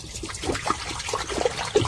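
Water running steadily into a container to be heated for coffee, a continuous close trickling splash lasting under two seconds with no voices.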